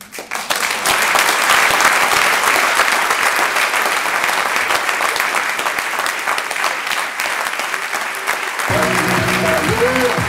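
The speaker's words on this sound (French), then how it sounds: "à la fin, les gens applaudissent" Sustained applause from an audience at the end of a performance, steady and loud for about eight seconds before giving way to music near the close.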